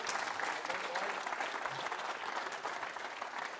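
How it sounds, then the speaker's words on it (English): A crowd at a squash league grand final awards ceremony in Liverpool breaks into sustained, fairly loud applause that stays steady throughout, with a few voices faintly audible beneath. "Give them a huge round of applause, Liverpool."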